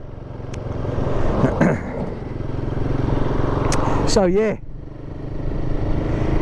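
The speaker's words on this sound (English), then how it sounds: "My bike has never ever run this smooth at these revs." Royal Enfield Guerrilla 450 motorcycle engine running steadily at raised revs, a continuous low hum close by, with someone talking over it.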